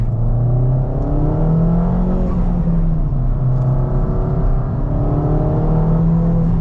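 A Ford Fiesta ST200 engine with a Revo Stage 2 tune revs and drones loudly and steadily, its pitch rising and dipping a few times, heard close up from inside the car.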